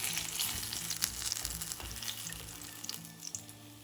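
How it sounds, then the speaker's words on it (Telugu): Mirchi bajji, batter-coated chillies, deep-frying in oil as they are turned, with a close, continuous bubbling sizzle, light clinks of a ladle and soft stirring splashes. "ఇలా కొద్దిగా తిప్పుకుంటూ వేయించుకోండి. అన్ని వైపులా కూడా చక్కగా వేగిపోతాయి."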